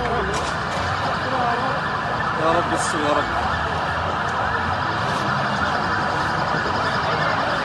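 A fire engine siren wails steadily as it arrives at a large fire at a petrol station in Dakahlia, with a crowd and voices talking over the continuous siren.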